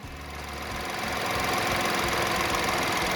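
A third-generation Mini Cooper three-cylinder engine fires up and settles into a rough, vibrating idle, the uneven low throb building in loudness over the first second and then holding steady close by.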